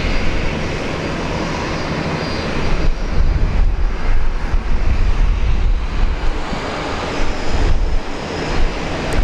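A Qantas airliner takes off from runway 01 right at Brisbane airport, a loud, steady broadband jet roar that swells and holds throughout with no voices.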